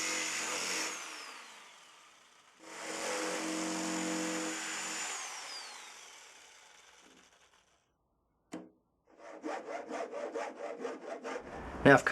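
A jigsaw cuts through material after a pilot hole, giving bursts of buzzy, rasping cutting that fade in and out, then a pause and a rapid pulsing stroke pattern near the end, close and fairly loud.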